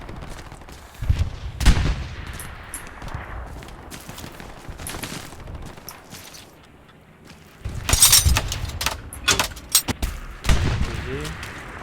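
Gunfire in the online World War II shooter Hell Let Loose: scattered shots and sharp cracking bursts, some near and loud, others farther off, with quieter stretches between and voices at times.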